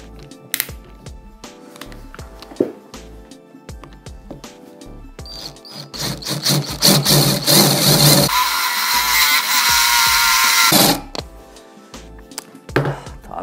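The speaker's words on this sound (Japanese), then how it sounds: "ここにね新しい穴を開けちゃいます。" A drill bores a new hole in a cheap Chinese-made focusing handle, with scattered clicks and handling knocks giving way to a loud, sustained whine for several seconds before it stops.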